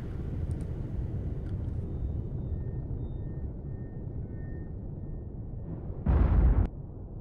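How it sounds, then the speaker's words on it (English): In the submarine game Cold Waters, a short, heavy explosion bursts out near the end, rising briefly above a continuous low rumble of ambient noise. "There was an explosion."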